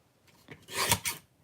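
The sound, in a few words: cutting a piece off the top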